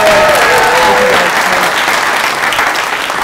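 An audience at a community event in Jefferson, Iowa, bursts into loud, sustained applause and cheering, a dense wall of clapping that fills the room and fades slightly toward the end.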